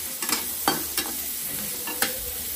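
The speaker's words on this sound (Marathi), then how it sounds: "पावटा पण मी तेलात परतते" Pavta beans sauté in hot oil with a close, even sizzle and a few sharp stirring clicks and scrapes, heard alone without talk.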